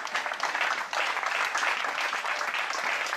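A church congregation at a tabernacle in Libreville, Gabon, applauds in a dense, steady wash of clapping that stays loud and even from start to finish, with no pauses.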